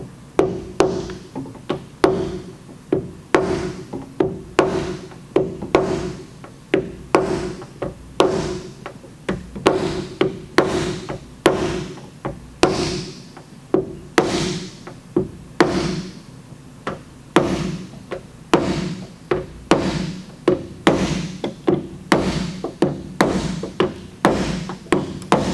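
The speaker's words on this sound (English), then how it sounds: "We use the red slappy and the body hammer from our collision level 1 kit." A body hammer and red slappy tapping a Toyota RAV4 metal panel during collision repair, a long steady series of sharp metallic blows, close and loud, evenly spaced at roughly one to two per second.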